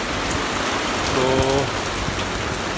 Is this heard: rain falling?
yes